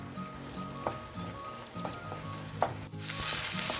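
A pan of meat pie filling sizzles and crackles steadily, with occasional clinks of a utensil stirring, close and moderately quiet.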